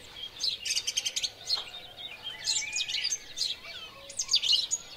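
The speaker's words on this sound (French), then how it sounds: "Et voici le merle, au rendez-vous lui aussi." A blackbird in a garden gives a string of bright chirps and warbling calls, fairly close and clear over a quiet background with no voices.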